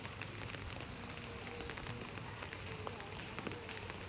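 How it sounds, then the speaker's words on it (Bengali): Light rain falls on garden plants and flowering shrubs, a faint, steady hiss of scattered drops with occasional sharper ticks, continuous and distant throughout. "কারণ বৃষ্টি হচ্ছে সেই জন্য"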